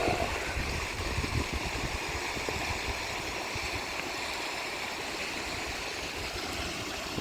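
Water rushing and gurgling along a creek, a steady broad wash of flowing water heard up close throughout, with no talking.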